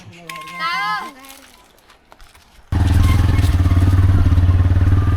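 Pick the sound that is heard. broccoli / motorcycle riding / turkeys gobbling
motorcycle riding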